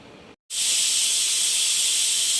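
A pressure cooker on high heat, cooking jaggery sweet rice, lets out a loud continuous steam whistle. It starts abruptly after a brief silence and holds steady, close and alone.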